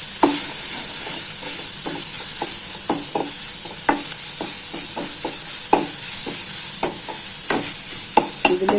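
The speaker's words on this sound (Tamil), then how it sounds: "அதுக்கப்புறம் நம்ம எடுத்து வச்ச இந்த அரைச்சி வச்ச வெங்காயத்தையும் பூண்டையும் போட்டுக்கலாம். அது ஒரு வதக்கி கொடுப்போம்." Ground onion and garlic paste sautéing in a pan for a brinjal and potato kara kuzhambu, a steady loud sizzle broken by repeated spoon scrapes and stirring clinks, with no talking.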